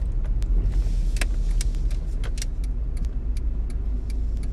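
A car drives along a street at fairly close range, its steady road and engine noise continuous throughout, with no talk.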